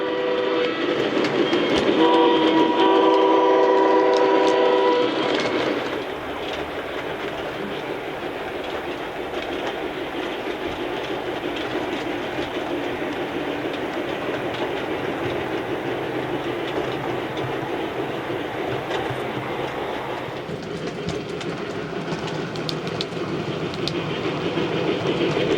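A model train horn sounds in a short burst, then heavy rail cars rumble and clatter steadily past for a long stretch before fading.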